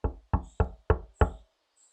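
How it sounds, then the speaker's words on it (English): Five firm knocks on the front door of a house, evenly spaced and close, each a sharp hollow rap followed by silence. "let's knock on his door and see what the hell he's up to."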